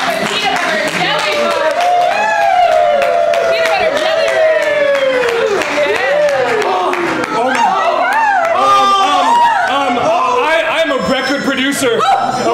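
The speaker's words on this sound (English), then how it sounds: "let's clap it for peanut butter and jelly" Improv comedy show audience clapping and chuckling at a steady, loud level throughout, with a performer's voice talking and sing-songing over the crowd noise.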